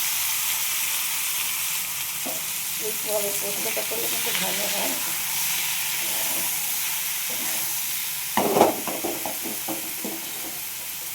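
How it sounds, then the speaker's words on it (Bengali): Sliced ridge gourd fries in oil in a wok with a steady, close sizzle and hiss. A voice talks briefly over it, and a utensil clatters late in the clip. "এরপর আমি ঝিঙেটা এরমভাবে কেটে নিচ্ছি, এটাকে একটু ভেজে নিচ্ছি আলাদা করে।"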